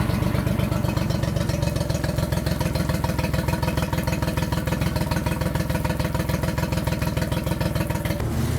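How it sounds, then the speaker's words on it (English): A 4-stroke outboard motor warms up during a service, idling steadily with a loud, even mechanical clatter throughout before cutting off abruptly near the end. "we need to warm up the engine for a few minutes"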